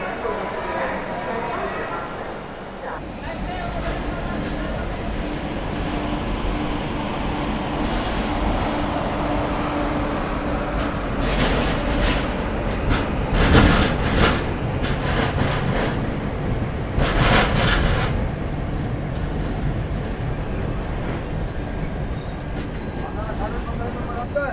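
The Goa Express rolls onward after leaving Bhusawal Junction, a steady rumbling rush of wheels and carriage noise with bursts of louder clatter, while someone talks over it throughout.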